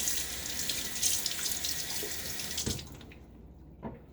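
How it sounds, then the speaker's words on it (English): Tap water running into a sink during a wet shave, a steady close splashing stream that cuts off near the end, leaving a couple of faint drips and clinks. "A little splash of water."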